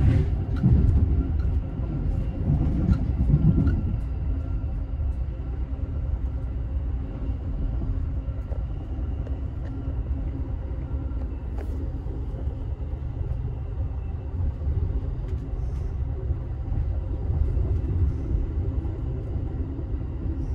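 Amtrak's northbound City of New Orleans pounds over the diamond crossing of the former Pennsylvania Railroad main line, now CSX, at Effingham, Illinois, heard from inside a roomette: a few heavy thumps early on, then a steady low rolling rumble.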